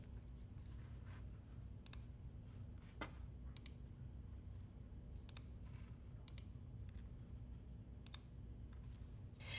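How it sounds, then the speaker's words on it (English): Mouse clicks on a Windows computer while copying and pasting files, a handful of sharp separate clicks scattered over a steady low hum, close and fairly faint. "In the Windows GUI, all you need to do is right-click,"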